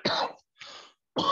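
Three rough, throaty coughs in close succession, fairly close and moderately loud, with short silences between them.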